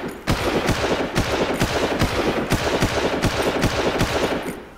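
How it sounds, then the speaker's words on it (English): Sustained automatic gunfire at an enemy in the shooter Far Cry, a steady rapid rhythm of loud, close shots, roughly three per second, continuing without a break and without talk. "I've shot him many, many times."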